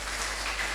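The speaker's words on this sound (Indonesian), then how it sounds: "Tepuk tangan dulu dong." Audience at a campus career day event clapping, a brief dense wash of many hands applauding together at moderate loudness with no voices.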